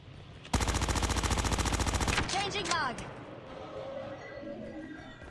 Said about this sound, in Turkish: Halen bana mı sıkıyor bu dingil acaba?